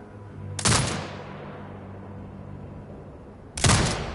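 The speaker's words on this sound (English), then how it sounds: "Exit binocular mode and command the turret to fire." Two heavy turret shots in the Sniper Ghost Warrior video game, each a loud, sharp blast with a lingering tail, about three seconds apart and alone.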